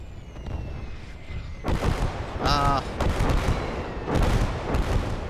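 Booming artillery blasts and explosions in a World War II video game battle at Saint-Lô thud repeatedly over a constant rumble of battle noise, with a brief shouted voice in the middle.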